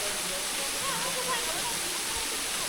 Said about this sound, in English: Not a bad waterfall at all